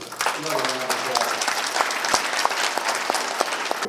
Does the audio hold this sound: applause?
yes